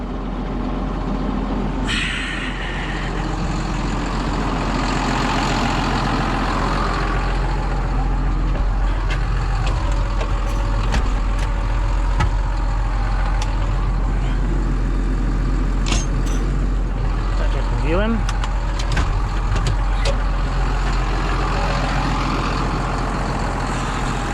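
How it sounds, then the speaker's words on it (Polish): A heavy diesel tractor engine rumbles loudly and continuously close by as it drives forward, with a few brief squeaks and mechanical clanks over the steady drone. "Teraz trzeba będzie kawałek do przodu dać ciągnikiem"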